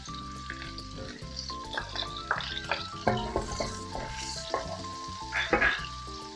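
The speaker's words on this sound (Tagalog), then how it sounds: "kapag mainit na yung wok natin o pan nyo, lagay na natin yung ating sibuyas. Then, lagay natin yung ating garlic." Onion and garlic sautéing in a hot wok for pancit bihon, a continuous crackling sizzle with stirring and occasional utensil scrapes, close and fairly loud, with no talk.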